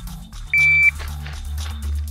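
A single sharp electronic shot timer beep at a shooting range, short and loud, sounds once amid low background rumble.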